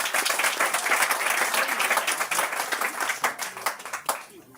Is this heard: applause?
yes